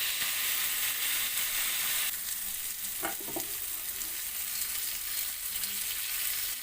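Chicken pieces brown in a frying pan for chicken tikka masala, giving a loud, steady sizzle and hiss with a short clatter partway through.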